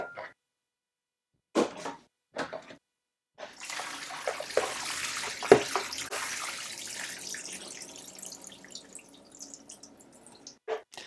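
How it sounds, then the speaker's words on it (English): Water running and dripping off washed lettuce as it drains in a kitchen, a few sharp splashes first, then a steady soft trickle lasting several seconds, quiet and close. "So now what we're gonna do is we drain the lettuce."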